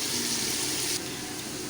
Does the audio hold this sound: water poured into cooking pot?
yes